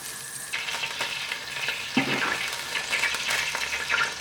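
Salted butter melts and sizzles in a hot pan, a soft crackling hiss that starts abruptly and keeps bubbling and popping steadily up close.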